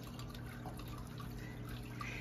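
A backyard water feature trickles steadily outdoors, a soft continuous wash of running water with faint drips, low in level and unbroken by talk.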